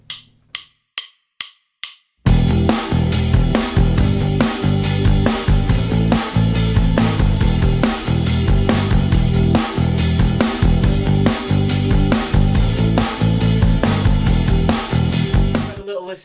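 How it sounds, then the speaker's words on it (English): A looped rock and pop backing track for guitar improvisation starts after four sharp count-in clicks, then plays full band music with a steady driving beat, loud and continuous with no voices. "On the Trinity Rock and Pop website we have a short backing track which gets looped around"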